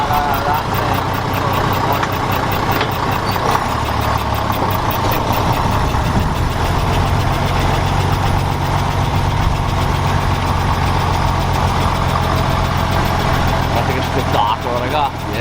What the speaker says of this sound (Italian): Il motore è anche silenzioso